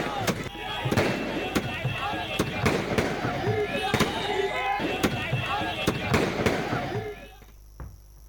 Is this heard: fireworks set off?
yes